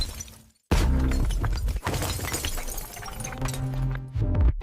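Porcelain shatters in a loud, sudden crash after a brief silence, breaking into a long spray of scattering, tinkling fragments that fades out over several seconds.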